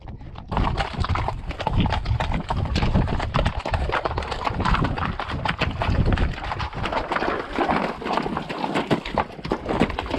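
Horse hooves clip-clopping on a Dartmoor trail ride from tor to tor, a steady rhythmic stream of close footfalls with wind buffeting the microphone throughout.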